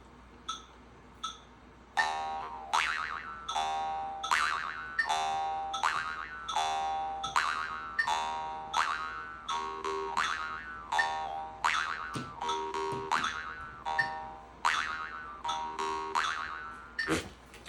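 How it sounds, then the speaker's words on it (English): Twangy, springy boing tones from a jaw harp pulse in a quick steady rhythm, each pluck bright and resonant, with a faint metronome ticking beat underneath. "So that was really just boing, boing, boing, boing."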